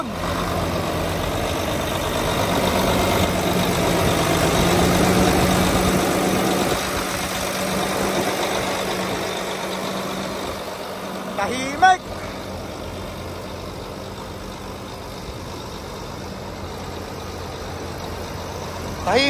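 Volvo truck with a Vectro engine idling, a low steady rumble and vibration under close-up talking, with a brief clank partway through.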